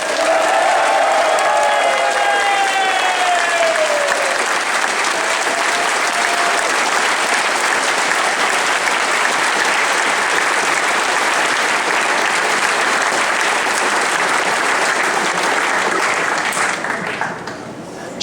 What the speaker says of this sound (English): one final round of applause just to show our true appreciation for the wonderful, wonderful staff of the Hinkley Island Hotel